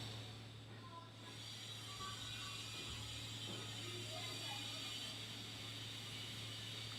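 Sewing machine stitching a 9.5-inch zipper onto the edge of a handbag, a faint steady mechanical whirring hum that runs without pause, with no one talking.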